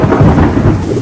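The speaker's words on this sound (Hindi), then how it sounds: "यहाँ पे बारिश गिर रही है और मौसम बहुत अच्छा हो रहा है" Heavy rain pours down steadily outdoors in the USA, a dense continuous wash with low rumbling that may include thunder, loud and close with no speech.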